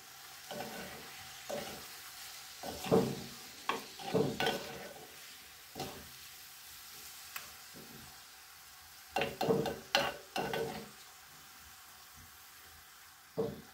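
Chicken breast pieces frying with spices in a pan, soft continuous sizzling broken by bursts of stirring and scraping that come and go over several seconds.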